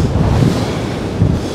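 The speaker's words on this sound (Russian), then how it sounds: "Потому что ветер, видите, волна приходит," Storm waves surge onto the beach at Anapa on the Black Sea under strong wind, a loud, continuous roar of surf with heavy wind buffeting the microphone.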